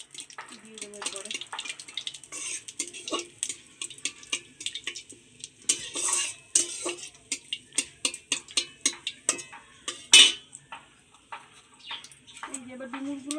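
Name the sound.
stirring bay leaf tempering in a pan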